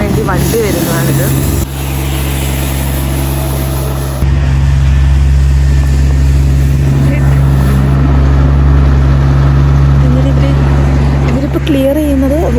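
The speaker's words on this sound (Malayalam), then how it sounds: "മഞ്ഞ് ക്ലിയർ ചെയ്യാൻ വേണ്ടി വണ്ടി വരുന്നതാണിത്." A snow-clearing vehicle works along a snowy road in Germany, its steady low engine drone rolling throughout beneath a person talking.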